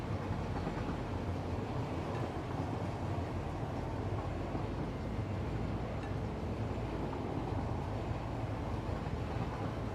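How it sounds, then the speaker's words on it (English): A fully loaded train climbs uphill in the game Satisfactory, giving a steady, loud low rumble of rolling wagons with faint clickety-clack throughout, no voices. "a fully loaded train going uphill"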